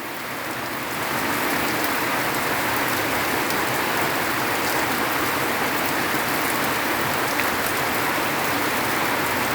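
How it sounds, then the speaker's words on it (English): Heavy rain pours down in a dense, unbroken roar, swelling slightly in the first second and then holding a steady, close hiss with no voices. "The rain is falling in full swing."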